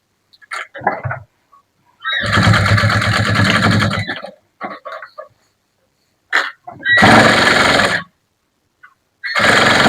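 A sewing machine stitches the hem of a blouse in loud close bursts, two long runs of rapid steady stitching separated by silence and short clicks of handling the fabric and machine, with no talking.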